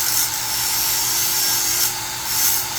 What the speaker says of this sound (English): I've got to get some of this paint off